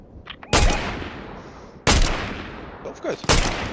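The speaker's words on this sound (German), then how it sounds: "Wer ballert denn dann die ganze Zeit?" Gunfire in the video game Fortnite: three sharp, loud shots spaced over a few seconds, with fainter pops and a brief voice between them.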